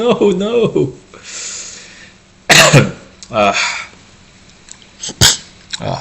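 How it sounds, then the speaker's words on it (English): Several short, sharp coughs burst out between stretches of speech, close and loud, with a voice talking before and after them. "Cough. Cough."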